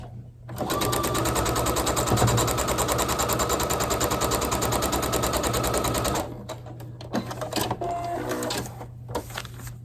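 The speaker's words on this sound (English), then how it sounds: "Folding it over, and we're going to sew between there and there." A sewing machine stitching foundation paper piecing for a quilt block, a fast, even mechanical rattle running steadily for about five seconds, then stopping, followed by faint handling sounds and a brief voice.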